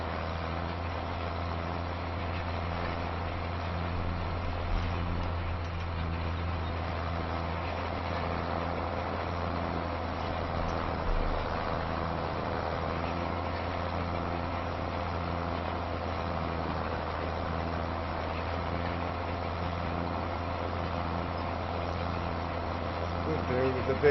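Steady tractor engine drone in Farming Simulator 25 while rolling grassland, a continuous low rumble held at even loudness throughout with a voice talking over it.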